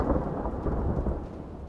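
Thunder rumbles in a deep, rolling burst with rain-like hiss underneath, steady and moderately loud throughout the short stretch, with no voices.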